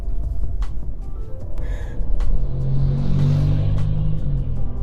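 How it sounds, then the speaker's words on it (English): A high-mileage Volkswagen Polo driving at sunset, low road rumble and engine hum from inside, building slightly louder halfway through as the engine note rises and holds steady. "We're driving a Volkswagen Polo with the sunset"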